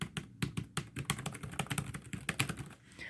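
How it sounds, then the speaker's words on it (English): Fast typing on a laptop keyboard with tactile clicking keys, a close, crisp run of rapid irregular clicks with no talking. "This is what the keys sound like."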